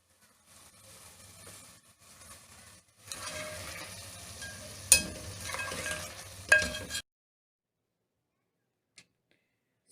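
Pigeon meat curry is roasted in a pan, with faint scraping and light sizzling that grows louder midway, including a few sharp clanks of a spoon against the pan, before cutting to silence.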